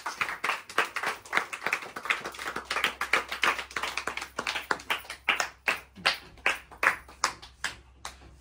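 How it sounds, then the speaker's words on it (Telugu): Clapping by a small group at a wedding anniversary celebration, a run of distinct, fairly close handclaps that start dense and thin out into separate sharp claps toward the end. "చప్పట్లు"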